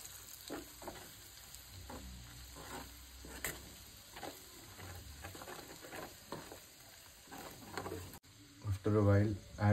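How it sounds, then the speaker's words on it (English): Chicken pickle fries in a pan as chili powder is stirred in, giving a quiet sizzle with repeated scraping strokes of the spoon, close by, and a louder burst of sizzling near the end. "And stir it well."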